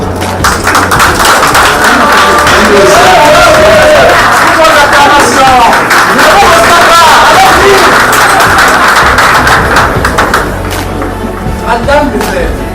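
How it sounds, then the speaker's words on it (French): An audience at a diploma ceremony cheering, clapping and calling out, a loud, close, dense roar of voices and applause that swells and then slowly eases toward the end. "Tout le monde acclame"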